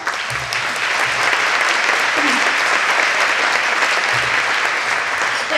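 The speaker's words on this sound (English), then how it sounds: "I think that deserves a round of applause." An audience at a women's business event in Louisville breaks into loud, sustained applause, a dense wash of many hands clapping throughout, with faint low voices beneath.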